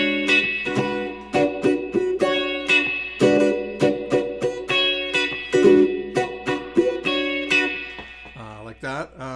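Funky electric guitar through a wah pedal, with choppy rhythmic strums and quacking sweeps repeating in a steady groove, loud and close, ending in a quick scratchy flourish.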